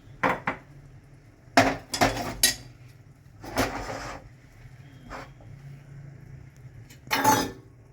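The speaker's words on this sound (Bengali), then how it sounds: "এবার আমি ঢেকে দিলাম সেদ্ধ হওয়ার জন্য।" A metal lid set onto a cooking pot in a home kitchen, with several sharp clanks and clinks in quick bursts, close and fairly soft, with quieter pauses between them.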